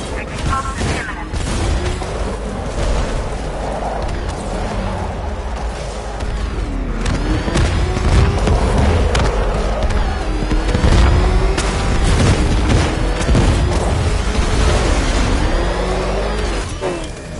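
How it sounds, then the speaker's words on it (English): A continuous roaring explosion and collapse rumbles through the Ace Chemicals plant in a Batman video game, with dense booms, crashes and grinding machinery sustained loudly for the whole stretch, plus brief game voices mixed in. "I need to escape Ace Chemicals before it explodes."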